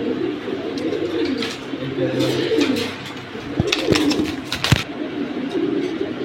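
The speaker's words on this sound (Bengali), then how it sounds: "চলুন আরেক জোড়া কবুতর দেখবো এখন।" Military-breed pigeons coo in a loft, low rolling coos rising and falling in the background, overlaid by a few sharp clicks and knocks near the end.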